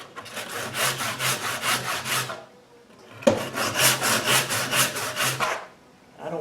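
A radial arm saw cuts wood in two passes of rhythmic, rasping pulses, loud and close, separated by a brief quiet gap.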